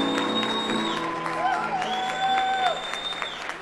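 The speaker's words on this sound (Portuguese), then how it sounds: "Muito mais palmas." Audience applause at a church Mother's Day program, a sustained wash of clapping with a voice speaking over it and sung notes rising above the crowd.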